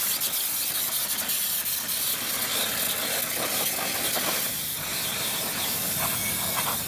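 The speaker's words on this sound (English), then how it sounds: "It's ready to be hit with one more thing of brake clean" Aerosol brake cleaner sprays steadily onto a brake caliper being prepped for painting, a continuous close hiss that runs unbroken for several seconds with no talking.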